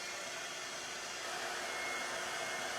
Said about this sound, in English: Let me make sure I say that while the blow dryer is going.